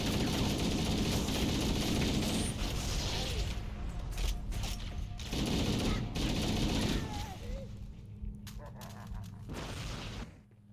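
Gunfire in the Halo video game, sustained bursts of rapid weapon fire with chirping alien cries mixed in, loud in two long stretches separated by brief lulls.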